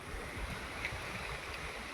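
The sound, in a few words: wind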